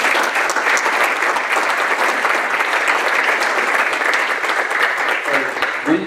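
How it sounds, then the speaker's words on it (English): Applause from a conference audience at a keynote address: a dense, steady roar of many hands clapping together, loud and sustained for several seconds without a break. "Let's give those guys a round of applause."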